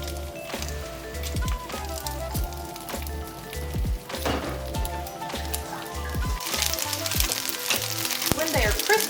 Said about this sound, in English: now we're gonna fry our Maultaschen for about 5 minutes until they're a little bit golden